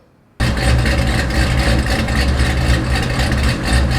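A Cadillac CTS-V3 V8 with an RPM Hellion cam starts up abruptly and runs with a loud, deep, steady rumble, close and constant with a slightly lumpy idle throughout.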